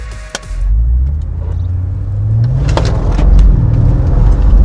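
A wrecked Audi RS7 pulls off on a test drive, its engine rumbling low and steady with a short knock near the start and the revs swelling gradually, heard alone with no talk.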